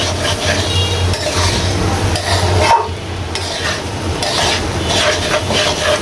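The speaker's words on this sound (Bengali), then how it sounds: "একদম ভাজা ভাজা করে নিতে হবে, ঝরঝরা করে ভেজে নিতে হবে।" Khichuri fries and is stirred in a pot on a stove, a loud steady sizzle broken by scraping stirs, with a brief pause midway.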